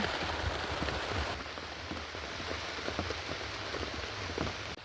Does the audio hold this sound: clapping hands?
no